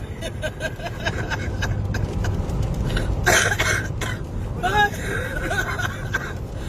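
A short cough breaks through a background of chatter and room noise, followed by some murmuring voices.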